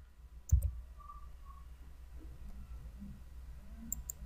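A single soft computer mouse click near the start while working in accounting software, followed by quiet room hum and a few faint ticks.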